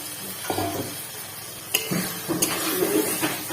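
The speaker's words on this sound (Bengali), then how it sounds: "আমি এবার এতে জল দিয়ে দিচ্ছি" Water poured into hot oil holding puti fish and okra for a curry, a short burst of sizzling and bubbling with pan clinks and faint scraping, close by.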